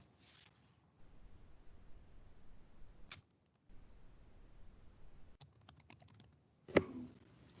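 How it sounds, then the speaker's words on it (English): Typing on a computer keyboard during a council meeting comes in quiet bursts of rapid key clicks, close and soft, with pauses between runs and one louder clack near the end. "I'm typing up the motion right now."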